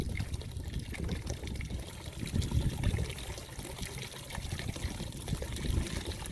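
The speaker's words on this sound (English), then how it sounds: "We're using the hose." Water runs steadily from a hose during gold cleanup with a banjo pan and dream mats at a prospecting site, a soft continuous trickle and splash with no talk.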